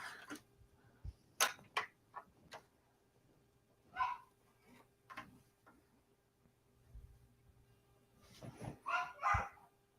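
A dog barks indoors in scattered short bursts, single barks and a tight cluster near the end, somewhat distant and unaccompanied by talk.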